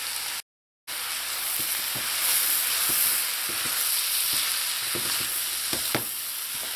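A rice stuffing with sesame oil, scallions and celery is stirred together in a bowl, a steady soft rustle with scattered scraping and clinking strokes and a brief drop to silence near the start.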